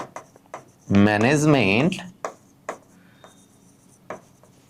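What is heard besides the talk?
writing on a board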